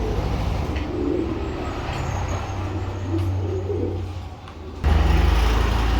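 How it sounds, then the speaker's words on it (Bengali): A pair of Carrier Homer pigeons coos softly in low, repeated murmurs against a background hum of passing traffic, with a louder rumble near the end. "এখানে আরও এক পেয়ার ক্যারিয়ার হুমা দিলাম।"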